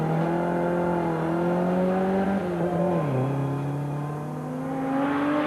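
A Volvo P544 rally car drives a stage, its engine droning steadily near the microphone, the pitch holding, dipping as it shifts or lifts, then climbing again as it pulls away.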